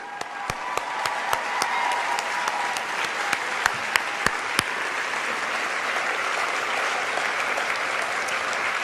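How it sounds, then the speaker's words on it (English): An audience at a university event gives a warm, sustained round of applause, dense, steady clapping from many hands filling the room throughout, with a few sharper individual claps standing out near the start. "giving the Odyssey staff a warm round of applause"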